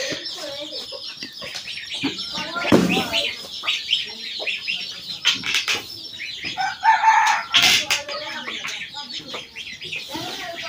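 Broiler chickens and a rooster on a poultry farm in cold weather, with clucking, scattered calls and a crow-like cry, plus brief wing flapping, fairly close and continuous across the clip.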